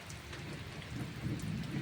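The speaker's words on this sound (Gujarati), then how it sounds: "જો ફૂલ વરસાદ ગાજે હે," Heavy rain pours steadily during a thunderstorm in a flooded Gujarati rural area, with low thunder rumbling under the dense hiss of the rain.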